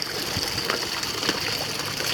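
Creek water flows steadily close by on a hike toward a river, a soft broadband trickle and rush with small splashy accents throughout.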